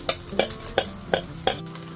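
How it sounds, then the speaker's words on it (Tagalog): Pork fat and garlic sautéing in rendered oil in a pan, a steady sizzle broken by five evenly spaced scrapes of a spatula stirring the pieces, close and clear with no voices. "Igisa po natin yung taba sa kanyang sariling mantika."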